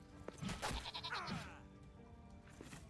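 A goat bleats in Lord of the Rings: Return to Moria, a few wavering cries close by over quiet ambient game sound in the dwarven mines.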